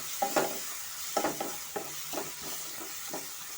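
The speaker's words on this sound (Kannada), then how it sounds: "ಮೀಡಿಯಂ ಫ್ಲೇಮಲ್ಲೇ ಚೆನ್ನಾಗಿ ಮಸಾಲೆನ ಫ್ರೈ ಮಾಡ್ಕೊಳ್ಳೋಣ" Masala for mushroom biryani frying on medium flame in a pan, with a spoon stirring through it in several scraping strokes over a low, steady sizzle.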